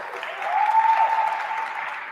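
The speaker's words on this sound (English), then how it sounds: "So give yourselves a round of applause." A workshop audience claps together in a brief, dense burst of applause that swells slightly and then holds steady.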